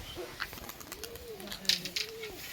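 A pigeon coos softly in low, rolling calls, repeated a few times close by, with faint rustling around it.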